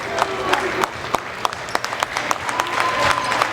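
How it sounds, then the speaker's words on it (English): Crowd at a college basketball game applauds a departing senior, a loose mix of clapping and cheering with sharp individual claps standing out over arena noise and faint voices. "one last big round of applause for a departing senior, Quinn Schnieders."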